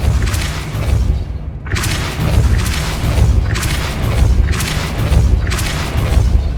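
The Depulso repelling spell is cast in the Hogwarts Legacy video game, with a series of heavy booming blasts and thuds in quick succession over a rumbling low game soundscape.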